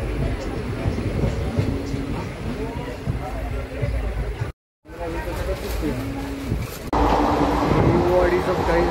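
Passenger train travelling fast on the way to Nagar, with a steady rumbling roar and rail noise throughout, briefly cut out midway and growing louder near the end, while people chat over it.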